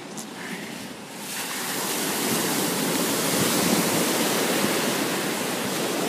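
Surf washes onto a private beach in a continuous broadband rush that swells after the first second and holds steady, fairly close and loud with no clear break between waves.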